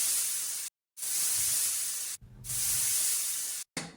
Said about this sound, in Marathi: आणि या कुकरला आपण 3 ते 4 शिट्ट्या घेऊया.